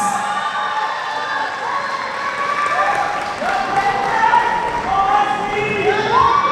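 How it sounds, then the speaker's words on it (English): Audience at the Mr. World Noble King 2023 pageant cheering and shouting for Mr. Philippines, a loud sustained roar of many voices with whoops and applause that keeps building. "I think this is your time to cheer"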